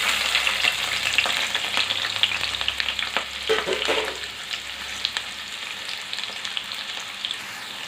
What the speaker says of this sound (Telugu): ఉల్లిపాయలు, పచ్చిమిర్చి గోల్డ్ కలర్ వచ్చేంత వరకు వేయించుకోవాలి